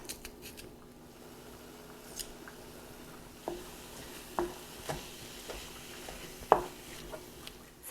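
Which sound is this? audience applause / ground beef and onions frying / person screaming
ground beef and onions frying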